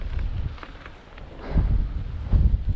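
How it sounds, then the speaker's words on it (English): Strong wind gusting across a microphone during an e-bike ride on a Cube Hybrid near Chanonry Point, Scotland, a steady low rumbling buffet that surges louder in the second half, with no voices. "it's very windy."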